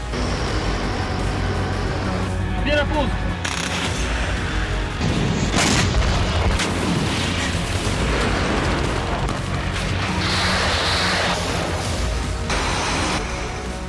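Bombs and missiles explode during attacks across Ukraine, with deep booms over a continuous loud roar that fills the whole stretch. No voice is heard.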